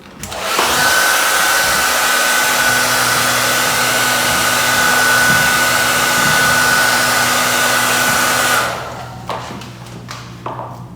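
A heat gun blows a steady, loud whoosh for about eight seconds while warming a graphics decal on a KTM motorcycle, then switches off, leaving faint taps and handling noises.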